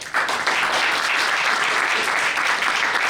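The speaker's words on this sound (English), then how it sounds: "I think that all of you need a big round of applause on behalf of the audience." A conference audience applauds after a panel discussion on European competitiveness, a sustained burst of close, dense clapping that holds steady throughout.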